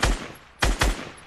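Three punchy gunshots fired in Fortnite, one after a long pause and then two in quick succession, loud and close.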